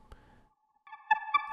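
Sawtooth synth pad built in FL Studio Mobile, its filter sweeping so the sustained, buzzy chord shifts brightness; a short soft lead-in, a brief gap, then the pad swells in with a couple of louder accents, heard alone.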